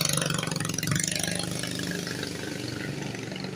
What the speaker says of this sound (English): Sounds like he even made the bike louder. That is a mini bike, people.